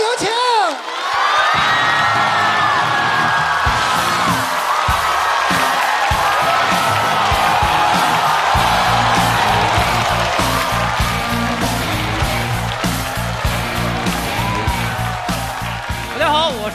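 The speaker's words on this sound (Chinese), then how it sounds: "掌声有请" A stand-up comedy show audience bursts into loud, sustained cheering, whooping and applause that fills the room, with the host's voice briefly over it at the start.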